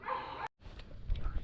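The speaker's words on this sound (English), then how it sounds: "Oh, there's that dog again." A dog barks from a house up the hill beside a clear-water lake in upstate New York. It gives a few quick, fairly faint barks outdoors, broken by a short pause.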